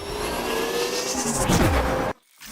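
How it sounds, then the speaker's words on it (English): An electric car in the racing game Asphalt Legends Unite hums with a steady, loud whir that rises slightly in pitch, then cuts out abruptly near the end. "this one sounds like all the other electric cars in the game, yes, this is clearly electric"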